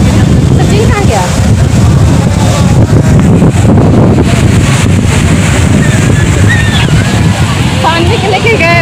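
Strong sea waves crash and wash continuously at Puri beach, a loud broadband roar buffeted by wind on the microphone, with voices faintly mixed in.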